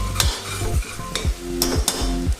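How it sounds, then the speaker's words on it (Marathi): Spices, homemade red chili powder and garam masala, sizzle in hot oil in a pan for prawn biryani while a spoon scrapes and stirs them in quick, repeated strokes, close and alone. "हे सगळं व्यवस्थित हलवून घ्यायचं।"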